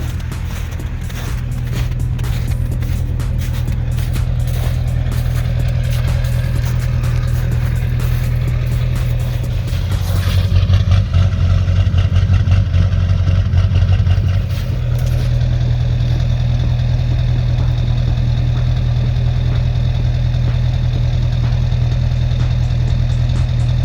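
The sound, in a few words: Duramax diesel truck engine idling roughly, heard at exhaust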